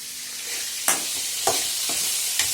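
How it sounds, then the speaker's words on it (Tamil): Ridge gourd sautéing in a pan for chutney gives a steady close sizzle, broken by a few sharp scraping stirs of a spatula spaced through the stretch. "நல்ல வதங்கணும் சட்டினிக்கு நல்ல வதங்கணும்"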